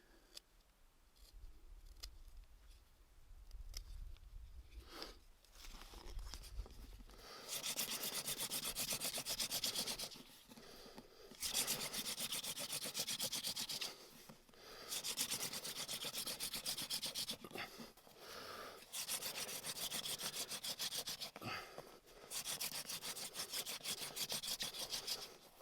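A wooden hand drill spindle tip is being carved for fire making, heard as quiet scraping at first and then repeated loud rasping strokes in bursts of a few seconds each, close and without speech.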